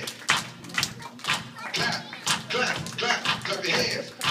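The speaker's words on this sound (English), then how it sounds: "Everybody clap your hands." Crowd clapping hands along to a song, steady rhythmic claps and taps mixed with shuffling and thumps under a continuous backdrop of voices and music, moderately loud and close.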